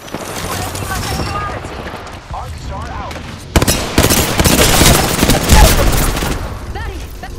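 Video game firefight with rapid bursts of gunfire and booming impacts, growing denser and louder midway, mixed with game voice chatter and effects.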